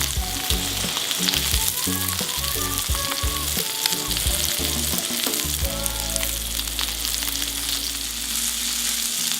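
A prime NY strip steak searing in a hot skillet, a loud, dense and continuous sizzle with crackling spatter and a low steady hum beneath.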